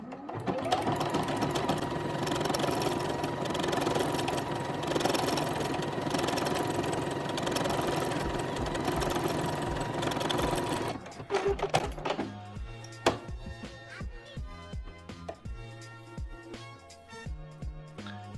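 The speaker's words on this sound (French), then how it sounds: "vous savez comment surfiler avec votre machine à coudre" A domestic sewing machine runs an overcast stitch along the edge of fabric with the presser foot down, a steady fast mechanical whir for about eleven seconds, then stops and gives way to quieter intermittent clicks and taps.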